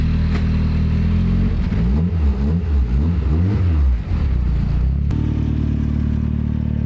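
A Mazda Miata engine runs steadily and loudly close by, its low rumble rising and falling through a brief rev in the middle before settling back to idle.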